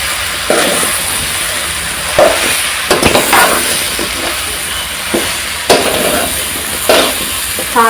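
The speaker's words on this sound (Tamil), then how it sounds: "காளானை போட்டு நல்லா கலந்து விட்டுலாம்." Mushrooms stirred into hot masala in a pan for a Kovai-style kulambu give a steady, close sizzling hiss, broken by repeated scraping strokes of a spoon. A voice speaks faintly underneath.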